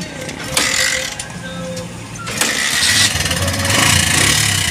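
A motorcycle engine cranks and catches, then settles into a steady, rough idle close by, with brief mechanical clatter at the start.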